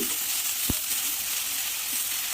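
Brinjal, tomato and beans frying with spices over a low flame, a soft continuous sizzle with one sharp knock of a utensil against the pan, no voices.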